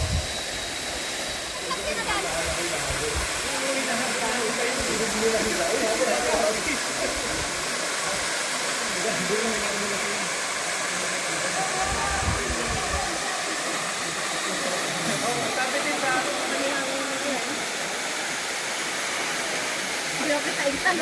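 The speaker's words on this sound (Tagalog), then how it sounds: "Ito na sa talon" A steady, broad rushing roar of Kinabuan Falls in Tanay fills the scene, constant and close, with voices faintly audible beneath it.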